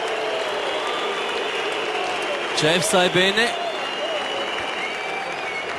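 A crowd applauds and cheers steadily at FC St. Gallen's promotion cup presentation after a 2:0 win in Locarno, a sustained wash of clapping while someone talks briefly partway through.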